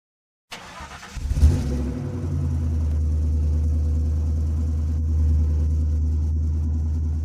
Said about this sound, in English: isn't this Porsche's limited edition sports car? I heard it was made especially for Skycorp's CEO.